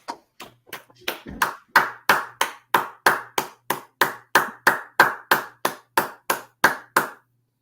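A steady run of sharp hand claps, evenly spaced and fairly loud, roughly two per second, like a group clapping in unison.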